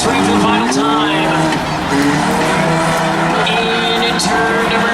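Race cars roar around an oval track on the final lap, engines droning loudly and continuously with overlapping pitch sweeps and brief tire squeal, while an announcer calls the race over the top.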